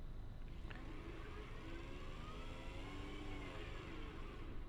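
Engine of the Pigeon, a tiny three-wheeled vehicle in BeamNG.drive, a steady whirring drone with a faint rough edge, held at an even level throughout without pauses.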